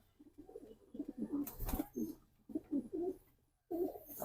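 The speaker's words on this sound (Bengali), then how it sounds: "এটা হচ্ছে একটা লক্ষা কবুতর" A white fantail pigeon coos close by in a series of low, throaty bursts with short pauses between them.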